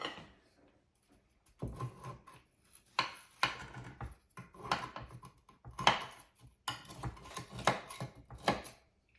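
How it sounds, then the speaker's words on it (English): A knife and server cutting into a baked blackberry buckle in a baking dish, giving a series of irregular soft taps, scrapes and clinks on the pan, close and quiet, with no talking. "I'm going to cut into this delicious blackberry buckle"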